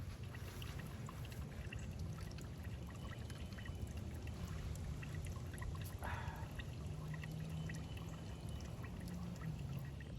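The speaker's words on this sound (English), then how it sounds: "We're just draining a radiator, so it's not gonna be that much, but I got 2 gallons. So we'll just let it drain" Coolant draining out of a 2017 Nissan Frontier radiator into a container, a steady pouring trickle lasting throughout, fairly quiet with a constant low background.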